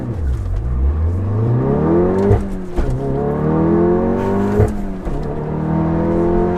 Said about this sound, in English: Let's put it in first, dump the clutch. We've got all-wheel drive.